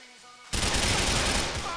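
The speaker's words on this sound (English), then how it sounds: "Oh man, getting shot from the side." Sudden burst of rapid gunfire in GTA IV, starting abruptly after a quiet moment and continuing as a dense, loud stream of overlapping shots.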